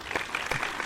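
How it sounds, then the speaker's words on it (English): A brief burst of clapping, a small group of hands patting unevenly for under a second, fairly faint and thin. "Can I just say, give us an applause."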